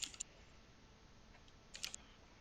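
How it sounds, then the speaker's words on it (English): Quick bursts of computer keyboard typing, a few crisp clicking clusters at the start and near the end over a faint steady room hiss, no talking. "Oh god, Damar's typing it."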